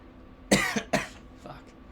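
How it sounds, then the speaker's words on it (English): Two short, harsh coughs from a person with a sore throat, one right after the other, loud and close, with a faint throaty noise trailing off after them. "Coughing actually hurts with this type of sore throat."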